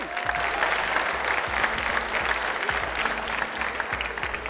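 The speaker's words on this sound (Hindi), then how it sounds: "तालियां बजाएं इनके लिए बहुत सारी" Steady, sustained applause from a sizable crowd, many hands clapping together without pause throughout.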